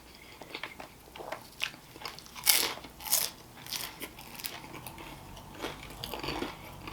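Crunchy pizza crust from Barcelona's in Garfield, New Jersey, is bitten and chewed close up, with sharp crackling bites followed by softer irregular chewing crunches and no talking.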